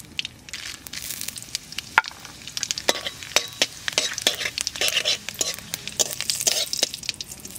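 Dried red chili and cumin seeds sizzle and crackle in hot mustard oil in a pan while a spoon stirs, with scattered sharp pops over a soft steady fry, fairly close.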